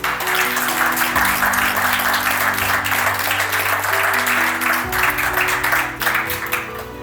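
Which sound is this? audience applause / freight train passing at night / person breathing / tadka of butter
audience applause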